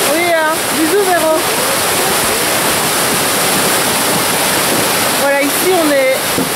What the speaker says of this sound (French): ici c'est le ruisseau